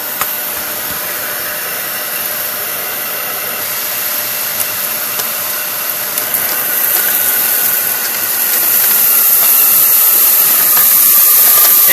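Kenmore 600 series bagless vacuum running on hard floor at the low hard-floor setting, a loud steady high whine and rushing airflow that grows louder and harsher toward the end, alone with no talk.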